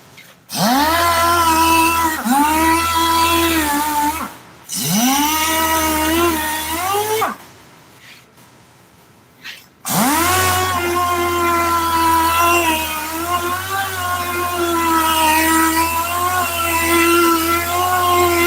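Power sander working a 2000 Chevy seat bottom with 36-grit sandpaper, loud whirring bursts that rise in pitch as it spins up, stopping briefly twice before running steadily again near the microphone.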